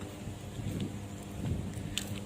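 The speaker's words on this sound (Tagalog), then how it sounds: "Ulan na naman. Lagi na lang na ulan dito." Steady outdoor rain in Singapore's Bukit Panjang area, a broad continuous hiss with soft wind rumble, moderately loud and without speech.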